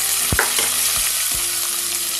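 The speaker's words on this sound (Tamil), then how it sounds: "கடலப்பருப்பு, உளுத்தம்பருப்பு பொரிஞ்ச பிறகு கட் பண்ணி வச்சுருக்க பெரிய வெங்காயம் சேர்த்துடலாம்." Sliced big onions frying in hot oil with chana dal and urad dal, a steady close sizzle with a few soft scrapes and knocks of a spoon against the pan.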